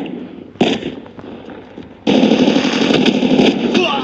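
SMG gunfire in the shooter game Call of Duty Mobile, a brief burst followed by a sustained rapid automatic volley lasting about two seconds, loud and close over busy game noise.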